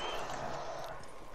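Horse hooves clip-clop at a gallop with a brief whinny in a Western video game, a steady close-range rumble of hooves and game ambience filling the short moment.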